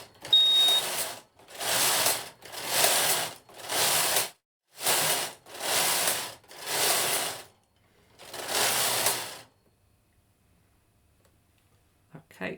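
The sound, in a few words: knitting machine knitting rows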